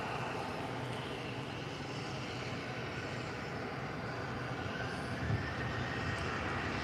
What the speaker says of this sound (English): So, Transavia now taking off a 737.